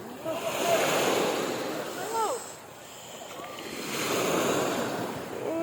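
Sea waves wash onto a beach, surging loudly, easing, then swelling again in a slow rhythm, with wind buffeting the microphone and brief faint calls in between.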